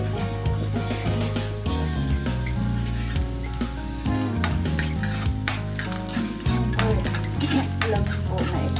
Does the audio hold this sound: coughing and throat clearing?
no